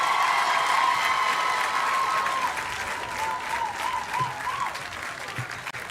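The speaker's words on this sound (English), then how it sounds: "Another round of applause to the displays," Sustained applause from a crowd at a recruit pass-out parade saluting the display teams, with a faint bugle-like tone early on, steady and fairly loud throughout.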